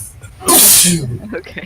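A single loud, sharp sneeze bursts out close by, with a brief voice speaking just after it.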